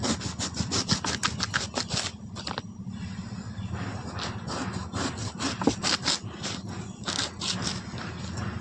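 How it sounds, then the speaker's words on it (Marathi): Elephant foot yam (suran) is sliced thinly with a knife, giving repeated close rasping, sawing-like strokes in quick bursts with brief pauses between. "अशी पातळ कापा काढायची"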